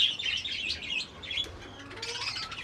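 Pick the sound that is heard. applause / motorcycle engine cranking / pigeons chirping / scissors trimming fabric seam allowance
pigeons chirping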